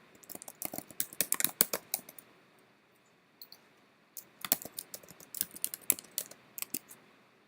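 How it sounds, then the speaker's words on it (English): Someone types a passcode on a computer keyboard: two quiet, close bursts of quick keystroke clicks separated by a short pause, with no voices. "I'm going to put my passcode in here"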